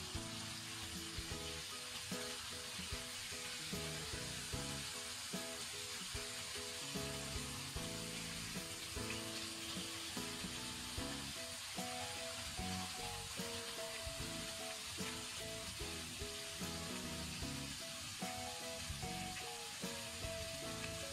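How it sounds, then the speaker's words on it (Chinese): Small cleaned squid pan-fried in vegetable oil with fried seasonings, giving a steady, dense, close sizzle with crackling spatters that runs throughout under light background music. "我们把它正反面煎一下"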